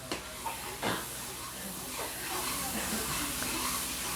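Boiled, crushed spinach dropped into fried masala for aloo palak, giving a soft, steady hiss of sizzling with a few brief clatters near the start, heard close and low under a person speaking.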